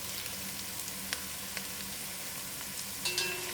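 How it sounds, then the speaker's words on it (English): Masala spices fry with curry leaves over cooked onions in a pot for Durban-style mutton curry, giving a steady low sizzle with a few faint clinks of stirring and one brief scrape near the end. "so I'm going to throw in my masalas. And give it a stir, allow it to cook for a few minutes."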